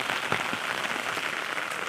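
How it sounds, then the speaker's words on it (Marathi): Heavy monsoon rain pours down in Konkan onto an umbrella and a flooded road, making a dense, steady, close hiss with scattered patters. "खूप पाऊस पडतोय"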